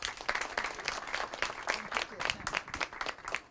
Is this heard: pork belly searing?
no